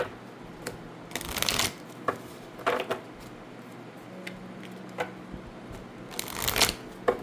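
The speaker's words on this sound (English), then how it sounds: "I guess I'll shuffle an angel prayers oracle card for you." A deck of angel prayers oracle cards is shuffled up close in several quick riffling bursts, separated by quieter gaps with faint card handling and soft taps in between.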